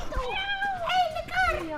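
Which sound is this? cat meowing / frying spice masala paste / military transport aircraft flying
cat meowing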